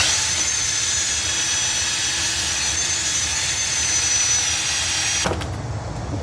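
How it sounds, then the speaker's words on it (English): A wire wheel grinds across the metal cutting deck of an RZ 5424 lawn mower with a loud, steady whirring scour that cuts off abruptly near the end, leaving a quieter hum. "we're using a wire wheel and just cleaning up the surface here"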